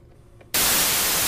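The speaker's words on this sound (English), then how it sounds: "All right, now we've got noise. Yes, let's turn on noise." Noise generator on a Liven Bass & Beats wavetable synth, oscillators off, switching on abruptly after a quiet start into a loud, steady, full-band hiss that holds to the end.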